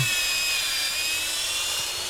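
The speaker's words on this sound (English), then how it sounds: "I was trying to drill into the pockets there." A power drill bores pocket holes into a wooden N scale model railway layout table, a steady high whine running continuously and close, with music faintly underneath.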